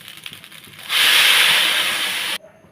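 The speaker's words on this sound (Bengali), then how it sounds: "জল গরম বসিয়েছি জলটা এখন দিয়ে দেবো" Water poured into a hot pan of fried rice for khichuri sets off a loud, steady sizzle that swells suddenly, holds for about a second and a half, then cuts off abruptly, with faint kitchen clatter before it.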